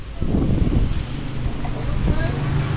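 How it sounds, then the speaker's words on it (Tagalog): Strong wind buffets the microphone in a steady, heavy roar, with faint voices beneath the gusts. "Malakas ang hangin."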